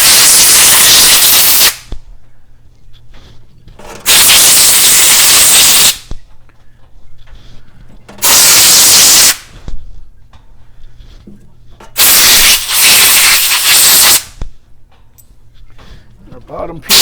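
Compressed air blowing out Harley XL/Buell oil pump parts, four loud, harsh blasts of hissing air of about two seconds each, separated by quieter gaps with a low hum and someone talking.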